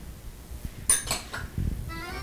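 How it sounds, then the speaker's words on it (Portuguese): A metal cooking pot is closed with its lid, a few bright clanks and a rattle close by, followed by a soft settling knock. "É claro que agora nós vamos fechar a panela"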